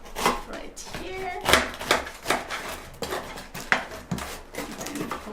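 A knife cuts through a freshly baked apple strudel, giving a series of crisp, crunchy cuts and knocks against the board at an uneven rhythm, close up.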